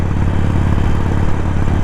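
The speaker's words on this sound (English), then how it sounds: "it's got that Harley sound" Loud, close Harley-Davidson Sportster 1200 motorcycle engine idling, a steady low rumbling chug with a clattery, uneven beat and no voices.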